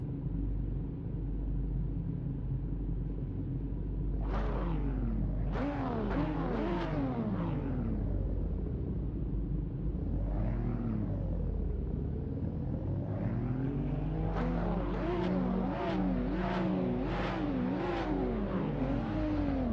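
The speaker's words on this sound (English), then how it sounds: "Revving their engines." Race cars in a Silverstone sim racing video game revving their engines before the start, with rising and falling whines repeating in bursts over a steady low rumble.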